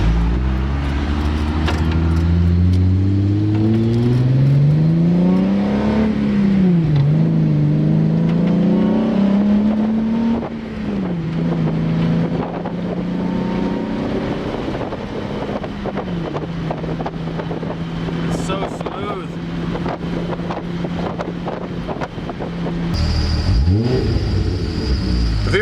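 Volkswagen Mk4 with a VR6 engine driven on a smooth road, its engine note climbing and falling through gear changes, loud and close with wind noise on top and no talking.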